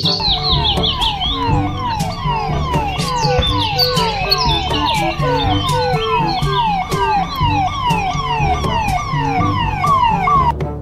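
A police siren wails loudly and continuously, cycling through rapid falling tones over and over.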